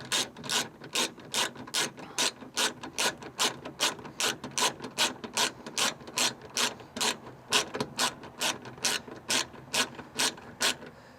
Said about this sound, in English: So we'll just go ahead and get the screw put back in place here.